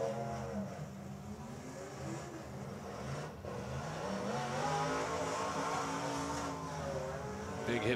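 Cars grinding and revving through a demolition derby in Perryton, Texas, with a heavy collision somewhere in the continuous rumble of engines and crowd noise, loud throughout.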